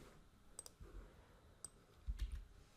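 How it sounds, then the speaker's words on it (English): Sharp mouse clicks on an upload button, a few brief isolated clicks spaced apart over faint background noise, quiet and close. "Click on upload."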